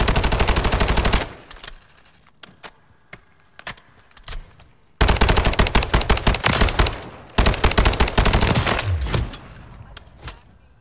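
Rapid bursts of automatic gunfire in a video game crackle close and loud, stop for a few seconds with only scattered shots, then return in long sustained volleys.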